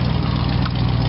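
A 1957 GMC Wayne bus engine idles just after a cold start, its dual exhaust giving a loud, steady low rumble with an even pulsing beat throughout the short stretch.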